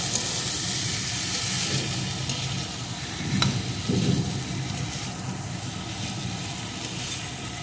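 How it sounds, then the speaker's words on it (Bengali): Chopped potatoes sautéed with spices in a pan give a steady, soft frying hiss, with a couple of brief stirring scrapes near the middle and no talking. "এই আলুটাও মশলার সাথে সুন্দর করে কষিয়ে নেবো"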